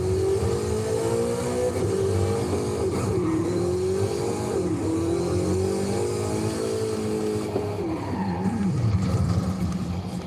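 Exotic sports car engine in Forza Horizon revving loud and steady for about ten seconds, pitch rising and falling through gear changes with brief tire squeal, no talking.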